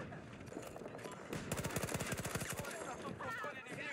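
Rapid automatic SMG fire in Battlefield 2042, a fast burst of evenly spaced shots in the middle of the clip over busy game ambience, with a player's voice faintly under it.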